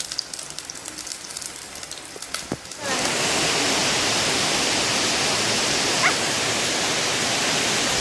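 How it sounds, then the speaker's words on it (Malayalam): Heavy rain pours down steadily as a dense, even hiss that starts suddenly partway through and fills the rest of the scene, following a quieter stretch with scattered small sounds. "നല്ല മഴയാണല്ലേ"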